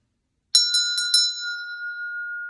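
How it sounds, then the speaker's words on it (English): A chakra bell struck four quick times in a row, bright metallic tones that then fade into one long, clear, ringing sustain in a quiet room. "Let's go ahead and ring that chakra bell for you."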